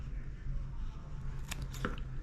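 Scissors snipping the rubber skirt corners of a homemade double Colorado spinnerbait, two or three quick close snips over a steady low background hum.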